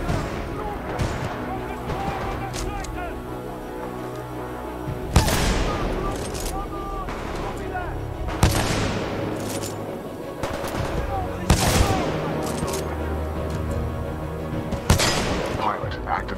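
Sustained automatic gunfire from a Titanfall 2 battle, dense overlapping bursts with sharp heavier blasts punching through every few seconds, loud and close throughout, mixed with game speech.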